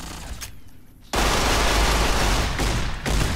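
Gunshots in the video game Fallout: New Vegas hit as loud, close reports, with one heavy blast followed by sustained firing and a couple of sharp cracks.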